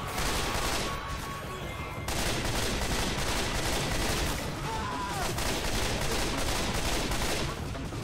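Steady dense gunfire in the Left 4 Dead game during a run across a bridge, continuous bursts of shots filling the whole stretch with no clear pauses, loud and busy.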